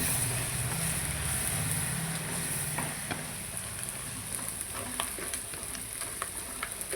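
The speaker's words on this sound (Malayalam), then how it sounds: "എണ്ണയിൽ കിടന്ന് നല്ലോണം മൂക്കട്ടെ" Chilli, pepper and turmeric powders frying in oil with onion produce a steady close sizzle with scattered crackles, and stirring sounds come in near the start.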